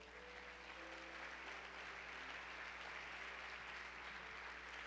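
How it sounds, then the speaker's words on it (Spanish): Church congregation applauding together, a steady broadband wash of clapping held at an even, fairly quiet level throughout with no voices standing out. "Dele un aplauso al Señor."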